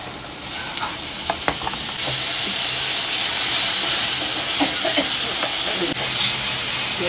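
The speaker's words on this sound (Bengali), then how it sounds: "কড়াইতে দিয়ে দিলাম শুকনো লঙ্কা ফোড়ন আর পেঁয়াজ কুচিটা দিয়ে দেবো, সেটাকে ভালো করে এখন ফ্রাই করব" Chopped onions and dried chillies frying in a kadai, a loud continuous sizzle and hiss with intermittent stirring scrapes throughout.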